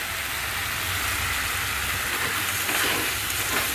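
Potatoes and spice masala of ginger and garlic frying in a pan for egg curry, giving a steady, close, loud sizzle with faint stirring scrapes throughout, no voices.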